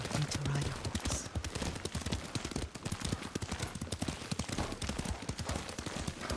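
Horse hooves clip-clop in a quick, steady galloping rhythm while riding in Ghost of Tsushima, close and prominent, with speech faintly mixed in.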